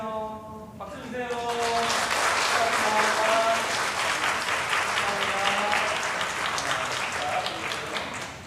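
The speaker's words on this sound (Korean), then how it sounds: "축하해요. 박수 주세요." A church congregation at a Sunday service bursts into sustained, dense applause that fills the room, starting right after a short spoken line and continuing loudly to the end.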